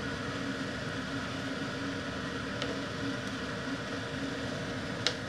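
Steady broadband whir of a kitchen exhaust fan running while chicken opor with pineapple simmers, a constant low hum and hiss with no change in level, faint and close, with a couple of tiny clicks.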